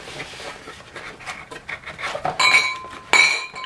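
Glass clinks and rattles as a beer set's glass is handled during unboxing, with rustling and knocking of packaging underneath and two brighter, louder ringing clinks near the end.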